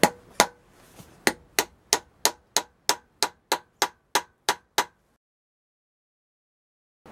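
A chisel struck with a hammer on a very rusty Flathead V8 engine, about fourteen sharp metallic blows in a steady, fairly quick rhythm, close and clear, then stopping into silence.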